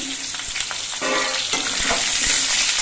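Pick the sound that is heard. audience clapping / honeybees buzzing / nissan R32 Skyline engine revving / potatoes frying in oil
potatoes frying in oil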